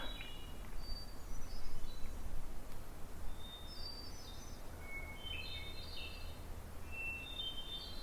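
Several birds chirp and whistle in short, scattered high calls at a campground in the Green Mountains, moderately distant over a steady low outdoor hum, with no talking.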